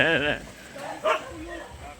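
Dogs, including a pitbull, at an outdoor charity ride gathering, giving a short yip and a quieter bark, fairly close, amid background chatter.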